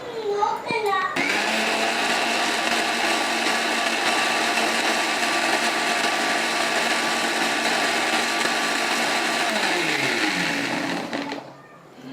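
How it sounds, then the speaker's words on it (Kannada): A mixer grinder grinding carrots with water whirs loudly and steadily for about ten seconds, then winds down and stops; a brief voice is heard before it starts. "ಈಗ ಇದನ್ನು ಇನ್ನೊಂದು ಸಾರಿ ರುಬ್ಕೊಳ್ಳೋಣ"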